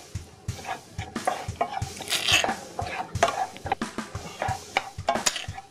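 Chicken frying in oil for Hyderabadi biryani, a busy rhythmic scraping and stirring of a ladle against the pan over a bright crackling sizzle, close and continuous.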